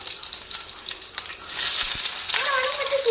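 Onions hit hot oil in a pan for a Tamil mutton and field-bean curry, the sizzle jumping louder halfway through and hissing steadily, fairly close, with a few light clinks and no talk over it.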